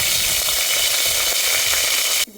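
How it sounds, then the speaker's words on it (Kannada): Mustard seeds, cumin, garlic and curry leaves sizzle loudly in hot oil for a fish curry, a dense crackling hiss close up that cuts off abruptly at the end. "ಎಣ್ಣೆ ಬಿಸಿ ಆಯಿತು. ಈಗ ನಾನು ಸಾಸಿವೆ ಹಾಕ್ತಾಯಿದ್ದೆ, ಜೀರಿಗೆ ಹಾಕ್ತಾಯಿದ್ದೆ, ಬೆಳ್ಳುಳ್ಳಿ ಹಾಕ್ಕೊಳ್ತಾಯಿದ್ದೆ"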